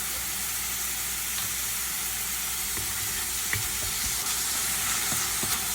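Ground beef fries in a hot pan with a loud, constant sizzle and hiss, with a few light scraping ticks of stirring on top.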